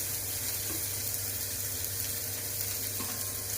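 Tamarind water poured into a hot pan of sautéed ginger for Tirunelveli sodhi kulambu, giving a steady, close hiss and sizzle with a watery rush that holds evenly throughout, no voices.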